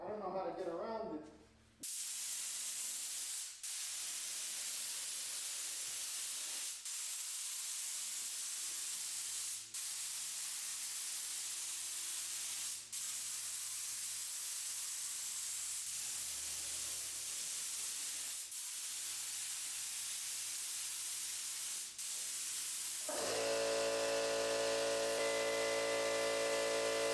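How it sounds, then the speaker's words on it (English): A spray gun lays fast clear coat onto a BMW E30 car body, giving a steady close hiss broken by short pauses between passes, ending with a different, tonal noise. "I'm gonna go spray this clear before it starts acting up again."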